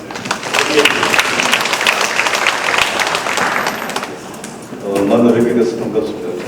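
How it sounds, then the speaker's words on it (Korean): Audience applause at an environmental forum in Changwon, a loud burst of clapping that dips and then swells again, with a voice speaking over part of it. "박수로 좀 드리겠습니다."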